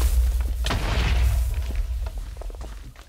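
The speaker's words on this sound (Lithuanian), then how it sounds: "Sprogdina TNT, aš to irgi pasprogdinsiu" TNT explosion in a video game: one deep, rumbling boom with heavy low-end that slowly decays, followed by faint scattered clicks and crackles.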